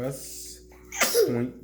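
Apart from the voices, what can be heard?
sneeze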